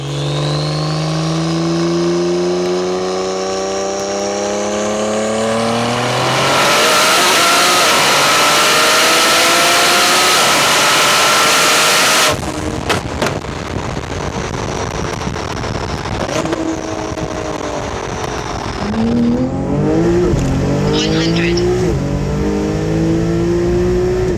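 A 1500 bhp Porsche 992 Turbo S conversion accelerates hard, its engine climbing through repeated rising sweeps with gear shifts, a loud roaring rush of wind and road noise, then another run of revving pulls. No one talks.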